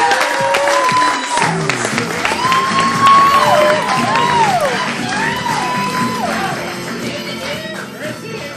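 An audience cheers and applauds a stand-up comedian: loud, sustained clapping with whoops and shouts from a lively crowd, swelling in the middle and then gradually tapering off.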